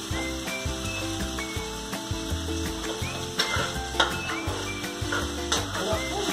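Butter and garlic fried rice (sinangag) is stirred in a hot pan, giving a continuous close sizzle with scraping stirs, under steady background music.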